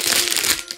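Plastic packaging on a Sanrio kawaii subscription box item crinkles and crumples continuously at close range for under a second, a brisk rustle that fades toward the end.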